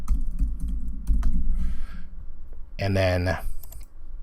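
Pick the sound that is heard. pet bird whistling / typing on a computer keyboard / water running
typing on a computer keyboard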